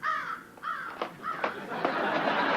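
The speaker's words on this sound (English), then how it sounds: "How did that crow get in it?" A crow caws several times in close succession, loud and harsh, with rasping calls repeating over a quiet background.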